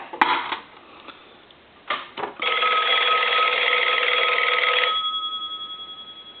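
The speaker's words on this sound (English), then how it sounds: "I want to ring the bell" Mechanical bell of an Automatic Electric three-slot payphone under repair. After a few clicks and taps comes a loud, continuous metallic ring of about two and a half seconds, then a steady tone.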